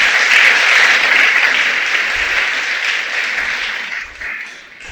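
Sustained applause from a church congregation at a Sabbath service, loud and steady at first, then tapering slightly toward the end, with no voices over it.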